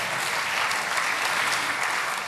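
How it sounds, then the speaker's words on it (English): An audience bursts into steady, dense applause at a National Bike Summit gathering, a continuous wash of clapping hands with no pauses. "You guys can clap."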